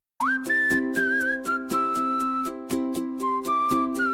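A bright melodic whistle in an AI-generated song carries a tune over steady music with a regular beat, sustained notes gliding between pitches.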